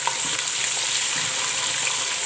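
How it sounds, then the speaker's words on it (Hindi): Onions frying in a pan with oil for a kofta and egg curry, giving a steady, continuous sizzle at close range with no talking. "प्याज को फ्राई करेंगे"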